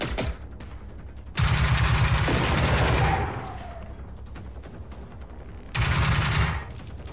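Loud bursts of rapid automatic gunfire in Generation Zero, one long stretch and a later shorter burst, with quieter distant shooting in between.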